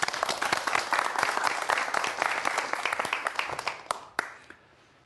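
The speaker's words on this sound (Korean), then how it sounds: "자, 박수 부탁드립니다." Audience at a public physics talk on quantum mechanics gives a full round of applause, dense and loud clapping that thins out and fades near the end.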